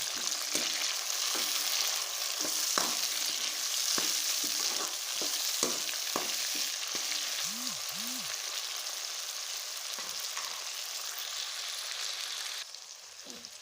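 Chopped tomatoes and whole green chillies fry with peas and potatoes, a steady loud sizzle running throughout while a spoon scrapes and knocks against the pan in irregular strokes.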